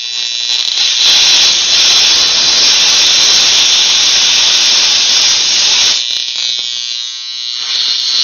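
Steam forced through a plasma water spark plug on a 5 hp Briggs and Stratton engine gives a loud, steady high hiss that runs for about six seconds, drops off abruptly, then returns more faintly.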